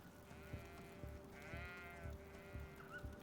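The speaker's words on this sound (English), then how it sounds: "Oh, there are sheep here." Sheep bleat in the video game Greedfall, a few wavering, nasal bleats rising over a steady ambient drone with soft rhythmic footsteps, fairly quiet and somewhat distant.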